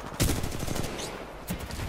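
Rapid, dense gunfire from the video game Titanfall 2 rattles on continuously and loudly, with a couple of heavier bursts standing out.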